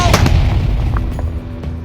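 Explosive charge blasting apart a boulder outdoors while prospecting for gold in Colorado: a sharp, loud blast near the start, then a rumbling roar that slowly settles with scattered debris.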